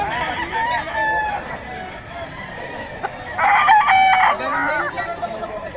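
Roosters, gamecocks, crow repeatedly, one loud nearby crow standing out above a steady background of farmyard noise.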